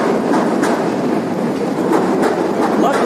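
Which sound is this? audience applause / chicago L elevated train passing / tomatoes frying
chicago L elevated train passing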